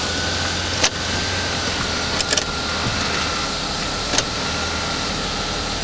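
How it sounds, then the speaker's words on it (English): A Chrysler transmission whines in a running car: a steady, droning hum holds throughout, with a few brief clicks and ticks, heard from inside the cabin with no talk. "Now that sound is normal on a Chrysler transmission."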